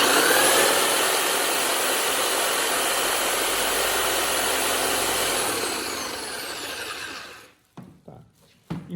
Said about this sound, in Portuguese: eu preciso trabalhar com a furadeira também na rotação invertida